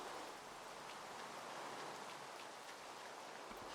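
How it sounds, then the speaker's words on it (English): Steady rain falling in Minecraft Hypixel Skyblock, a soft continuous hiss of drops spread across the whole clip with no talk over it. "it's raining"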